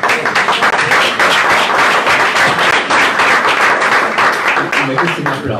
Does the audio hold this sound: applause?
yes